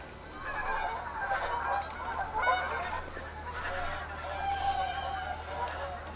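Geese honk repeatedly in The Hunter: Call of the Wild, clustered calls rising and falling over a steady low ambient hum, moderately loud and fairly close.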